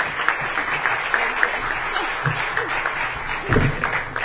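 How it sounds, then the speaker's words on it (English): Steady applause from an audience fills the room, with a few louder individual claps standing out and a brief voice underneath. "Please help me welcome also with a very warm applause, Lawyer Karen."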